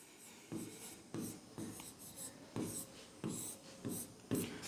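Pen or pencil writing out a worked arithmetic solution on paper, a steady series of short scratchy strokes repeating roughly every half second, close and fairly quiet with no voice over it.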